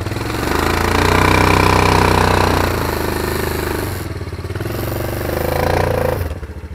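Small go-kart engine running close by, a loud, rough chugging drone that swells and eases in pitch and volume as the throttle shifts, continuous for several seconds.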